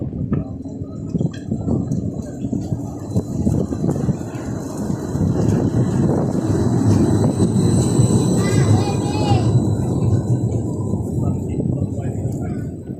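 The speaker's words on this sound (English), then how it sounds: "He sent me this. It's a tram." A tram rumbles past with steady low mechanical noise and a faint high squeal, while people talk over it.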